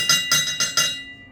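A bell struck four times in quick succession, each ring bright and metallic with a short decay, close and loud with no talk, the last ring fading out.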